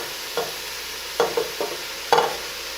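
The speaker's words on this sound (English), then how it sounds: "what we're going to do now is go ahead and add in this kale." Kale goes into a hot pan of carrots and mushrooms with a steady soft sizzle, while a few scraping stirs land in short separate bursts, close and clear with no speech.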